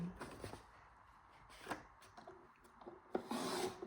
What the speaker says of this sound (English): bring it back into my trimmer, align that